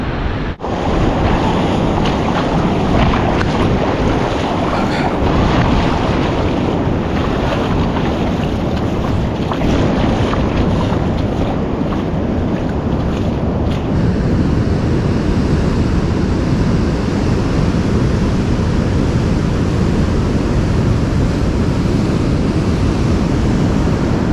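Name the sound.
high waves at Bethells Beach in bad weather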